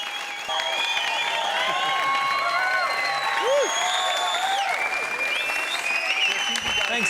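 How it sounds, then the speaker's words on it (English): Fans at a band event burst into loud, sustained applause with whoops and cheers, a dense wash of clapping running throughout with shouting voices rising above it. "The crowd goes wild."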